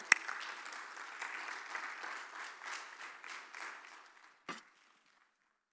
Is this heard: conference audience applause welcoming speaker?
yes